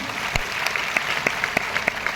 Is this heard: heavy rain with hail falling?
no